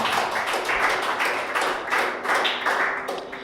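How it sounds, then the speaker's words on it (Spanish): Applause for the Lord from a church congregation: steady rhythmic clapping in bursts that swell and ease, close and fairly loud, with no talking over it. "En un aplauso al Señor"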